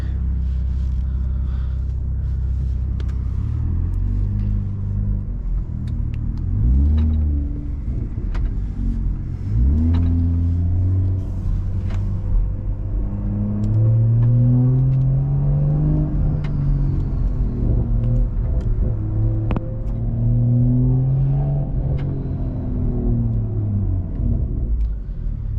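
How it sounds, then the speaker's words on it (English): BMW B58 engine exhaust heard from inside the car on a drive, a deep steady rumble rising and falling through repeated revs and gear changes, loud and continuous without talk. "no burbles this video, no nothing, just pure exhaust only."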